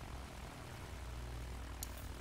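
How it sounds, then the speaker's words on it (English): An airplane drones steadily overhead in Battlefield 1 on the Sinai desert map, a continuous broad engine roar filling the background with one brief sharp noise near the end. "Guys, we got an airplane."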